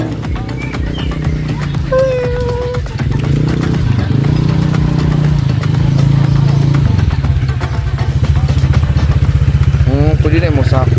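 Motorcycle rumbling steadily along a rocky riverside road, with the engine droning and the bike clattering over stones for the whole stretch, while voices talk over it.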